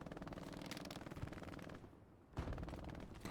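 Rapid bursts of MG42 machine gun fire in the World War II shooter Hell Let Loose, a fast rattling stream that breaks off briefly and then resumes, moderately distant.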